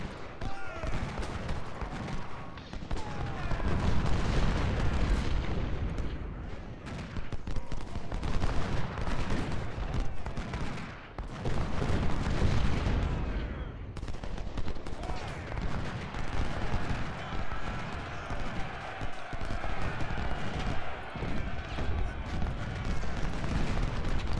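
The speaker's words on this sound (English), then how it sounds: "I'm going to start focusing fire on the skirmishers because I really want to get rid of them" Musket volleys and artillery fire from a Civil War river-crossing video game pour onto skirmishers in a dense, continuous crackle of gunfire with heavy booms, sustained and loud throughout with brief lulls.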